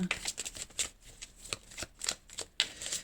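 Tarot cards are shuffled and cut close by, a quick run of crisp riffling flicks and slaps at a soft level.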